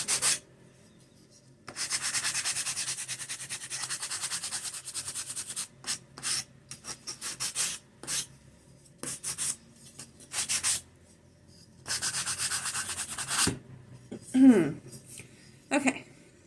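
A sanding block rubbed over a craft coaster above a trash can, giving long rasping strokes in bursts separated by pauses, close and clear, with a little speech near the end.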